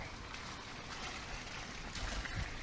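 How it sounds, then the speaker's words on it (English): Runoff water from rice fields trickles and flows in a continuous, soft stream-like wash, steady and fairly close, with no voices. "I can hear water."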